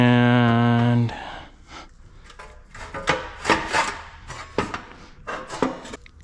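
A Civic Type R car fender is trimmed along a drawn line, giving a series of uneven rasping, scraping strokes close by after a short electronic tone at the start.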